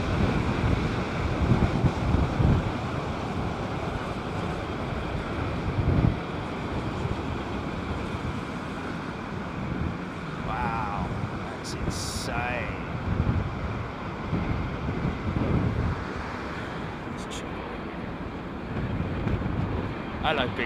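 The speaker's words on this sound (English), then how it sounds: "It's just because of the strong headwind." Strong storm wind buffeting at Heathrow Airport during Storm Ciarán, a constant roaring rumble with gusty surges and microphone buffeting, while people talk intermittently and faint higher engine tones drift in the background.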